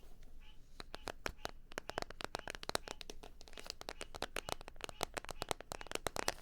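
Rapid, crisp tapping on a hard plastic mini first aid kit case, dozens of quick fingernail taps in an uneven rhythm, close and fairly quiet.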